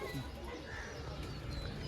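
Lalshila pigeons, including a female, coo softly in low, rolling calls against a steady background hiss, with a faint murmur of voices.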